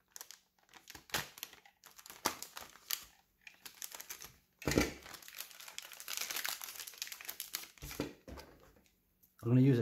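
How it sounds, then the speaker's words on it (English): Crinkly plastic wrapper of a trading card pack is cut and torn open with a blade and scissors in short rustling bursts, close up, with a louder crackle midway and scattered clicks. "I'm going to use a combination of the blade and the scissors just to get this pack opened"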